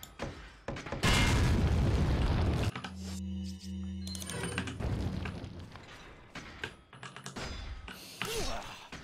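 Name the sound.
grenade explosion in a video game mod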